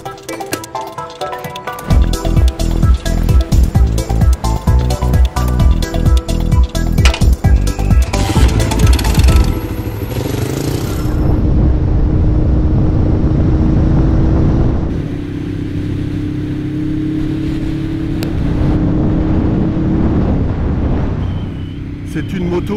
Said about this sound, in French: comme vous le constatez, je suis en moto